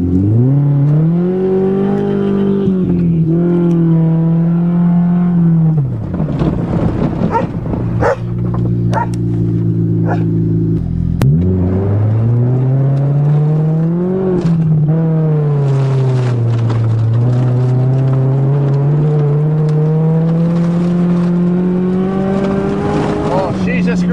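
A 1990 Honda car engine that is burning oil and trailing blue smoke revs loudly and close, its whining pitch climbing, holding and falling in repeated sweeps.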